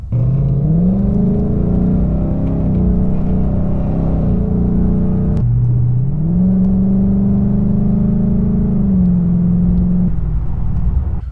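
A Ford Mustang GT, a Richard Petty King's Edition V8, rumbles loudly and steadily up close, revving up in pitch twice with a brief dip between rises.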